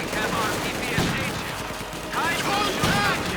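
Ostwind anti-aircraft tank firing in the strategy game Company of Heroes 2, rapid bursts of autocannon shots in a snowy battle, layered with other gunfire and battlefield noise.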